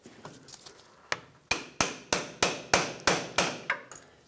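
Nine sharp metallic hammer taps on a pry bar, striking at a steady rhythm to slide a steering shaft joint on a 1996-2002 Toyota 4Runner, each ringing briefly before the next, close and clear after a few lighter knocks.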